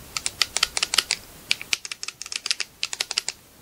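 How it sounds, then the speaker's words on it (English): Micro switched joystick buttons clicking: a quick irregular series of sharp, close clicks that come in fast bursts with short pauses, heard alone. "you can hear the buttons, the clicking"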